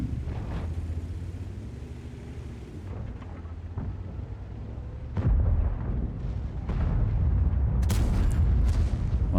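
Tank cannon fire in World of Tanks lands as deep, heavy booms, with a strong blast about midway and another later, over a constant low engine rumble.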